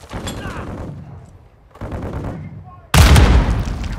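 A grenade blast and automatic gunfire in Call of Duty: Modern Warfare II, with bursts of shots first, then a loud sudden explosion near the end that keeps booming, with shouted voices mixed in.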